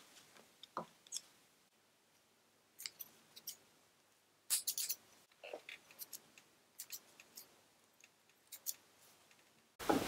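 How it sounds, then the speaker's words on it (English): Scissors snip through bag material in quiet, sparse cuts, crisp close clicks and short slices spaced irregularly, faint and alone with no talk. "Then I'll cut off the corners to make them nice"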